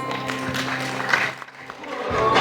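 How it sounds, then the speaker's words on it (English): Applause at a book premiere and launch event, a dense wash of clapping from an indoor audience, swelling in the middle and building again toward the end. "So please, a round of applause."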